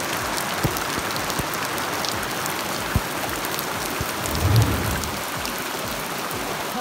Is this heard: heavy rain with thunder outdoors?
yes